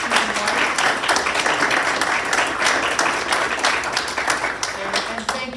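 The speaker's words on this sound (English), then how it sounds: "everyone give her a big round of applause for her speaker, Susan" Sustained applause from an audience at a Book Club of California program, a dense even wash of many hands clapping for the speaker, continuous throughout with no pauses.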